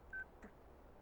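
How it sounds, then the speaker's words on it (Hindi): A telephone being dialed to place a call: one short, steady keypad tone, faint and alone over a low background hum. "शिवा को फोन करता हूँ।"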